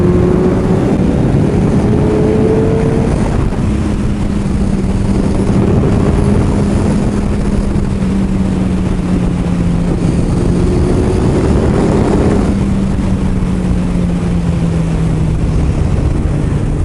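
Motorcycle riding on a road, a loud continuous engine drone with rising and falling pitch as it shifts through gears, heavy wind rush over the whole stretch.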